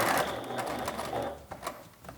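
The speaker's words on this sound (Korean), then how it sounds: "1cm 시접으로 봉제를 하시고요" A sewing machine stitches a washed linen phone strap pouch along a 1 cm seam allowance, a close, fast mechanical chatter running steadily for about two seconds.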